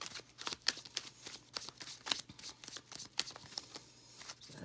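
Tarot cards being shuffled by hand, soft rhythmic riffling and flicking strokes at close range, faint and quiet with irregular bursts.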